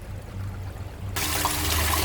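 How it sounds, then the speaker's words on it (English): Water pours steadily out of a tilted bulk container in a dense, hissing outdoor flow that begins abruptly partway through and stays constant and close. "that's how much water is now left in the bulk container, which is on an angle, and the flow in there is pretty good"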